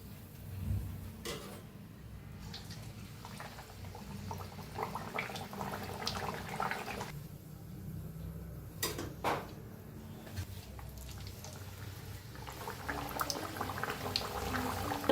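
Carrot puris deep-frying in hot oil give a steady, even sizzle and bubbling that runs throughout, with a few sharp clatters from utensils on top and no voices.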